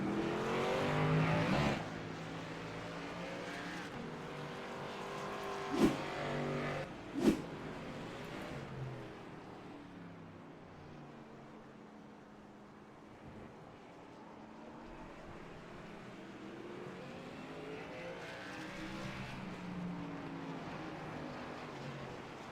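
Xfinity race cars at Circuit of the Americas, engines droning at a distance and rising and falling as they pass, with two sharp passing bursts in the middle and a long fading sweep afterward.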